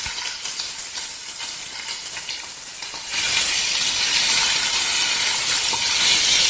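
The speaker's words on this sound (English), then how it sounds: "We're gonna break down the ground beef." Ground beef frying in a pan over reduced heat with onion, a steady sizzle that swells louder partway through as it is stirred and broken up, close and continuous with no talk.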